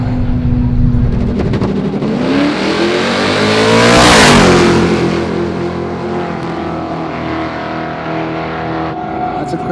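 A Crown Vic race car engine roars in a racing video game, revving loudly as it sweeps past with a rising and falling pitch, steady engine hum before and after.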